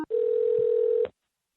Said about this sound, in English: We're dialing the Stefandel home now.